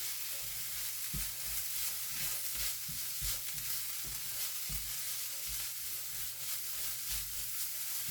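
A masala mixture for Raja Rani paratha is stirred in a pan, with rhythmic scraping and knocking strokes over a continuous frying sizzle, close and steady, with no voices.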